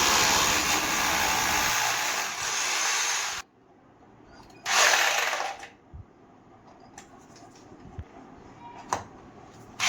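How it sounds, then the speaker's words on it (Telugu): A drill fitted with a diamond bit whines loudly as it bores through tiles, running steadily for several seconds, stopping, then giving a second short burst, followed by scattered clicks and taps. "డ్రిల్ మిషన్ తోటి టైల్స్ కలగకుండా డైమండ్ బిట్ పెట్టుకొని మంచిగా స్లోగా"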